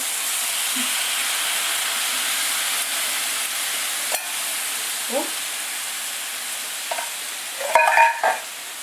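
Chicken fries in a pan with a soft steady sizzle as coconut milk is added for Thai mango chicken, with a few scrapes and clinks of stirring and a brief voice near the end.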